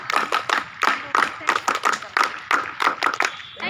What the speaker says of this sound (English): clap, girls!